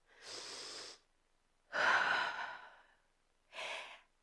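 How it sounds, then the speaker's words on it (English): Three slow, deep breaths taken while sitting cross-legged at the end of a pelvic health workout. Each is a soft, close, airy inhale or exhale, separated by short quiet gaps, with no talking. "Sit up nice and tall and take a deep breath."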